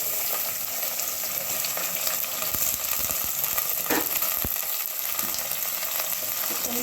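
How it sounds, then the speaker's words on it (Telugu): Chicken pieces fry in plenty of oil in a pan, a loud continuous sizzle close by, punctuated by several sharp clinks and knocks from stirring. "ఇప్పుడు చికెన్ వేసుకోవాలి."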